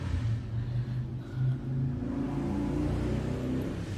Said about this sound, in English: We also live on a busier street now, so don't mind the traffic.